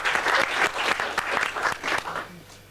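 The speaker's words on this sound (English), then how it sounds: "I think he deserves a round of applause." Audience at a 1995 magic show applauds a volunteer from the crowd, a few seconds of steady, close, moderately loud clapping with distinct individual hand claps that thin out toward the end.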